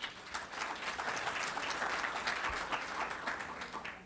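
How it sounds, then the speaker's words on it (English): An audience at a community coalition's Saturday morning forum breaks into sustained, fairly distant applause, a steady wash of many hands clapping without pause. "give him a round of applause."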